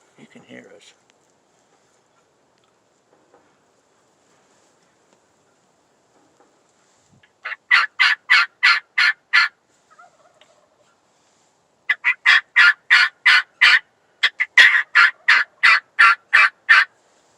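A wild turkey tom in the woods during a spring hunt gobbles in several rapid, pulsing bursts, each a run of quick rattling notes, loud and fairly close, with a brief murmur of voices early on.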